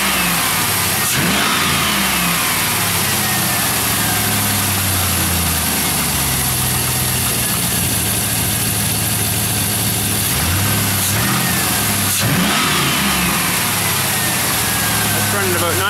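A truck engine, just after work on its EGR valve, runs loud and close, revving repeatedly over a rough idle, with people talking over it.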